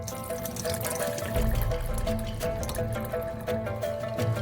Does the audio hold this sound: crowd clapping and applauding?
no